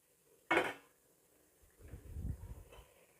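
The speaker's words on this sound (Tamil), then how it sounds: "இப்போ இதில் வந்து நம்ம வேக வச்சுருக்க மட்டனை சேர்த்துக்கலாம்" Cooked mutton goes into a pot of mutton biryani made with seeraga samba rice: a single sharp metallic clank from the pot, then a soft, muffled tumbling thud as the meat settles, with no talking.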